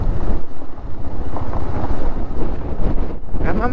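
Strong wind at Dhumba Lake high in Mustang buffets the microphone in loud, continuous gusts with a deep rumbling roar and no voices.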